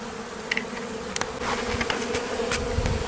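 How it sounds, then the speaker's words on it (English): Honeybees buzz steadily in the air nearby during a hive inspection, a dense droning hum with a few louder bees passing close. "I'd put some bees in the air there. They don't like being all tore apart"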